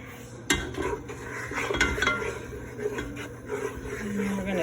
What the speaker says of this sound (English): keep stirring it until it turns into a chocolatey mix